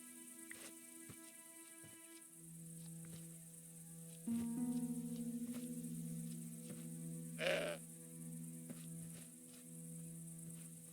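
A goat in Broken Sword 5: The Serpent's Curse gives a short bleat midway, set against steady insect-like chirping and a low sustained hum of game ambience.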